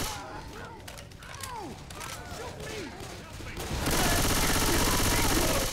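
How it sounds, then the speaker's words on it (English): Gunshots in Left 4 Dead 2, a scattered series of shots under a cluttered mix of game noise and voices talking, building into a dense, loud, continuous barrage over the final two seconds. "I'm shooting him in the butt."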